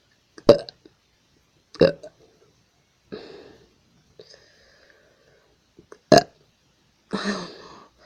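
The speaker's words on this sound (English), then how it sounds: "you burp uncontrollably loud as an 18-wheeler horn" A string of loud, sudden burps, six or so in all, spaced a second or two apart in an otherwise quiet space.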